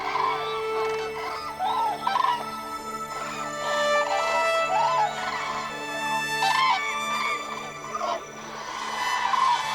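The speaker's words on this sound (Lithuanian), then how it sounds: "Klyksmais gervės ragina vieną kitą." Common cranes at a lakeside call back and forth with loud, trumpeting, rolling cries, several birds overlapping in repeated bursts over a steady background.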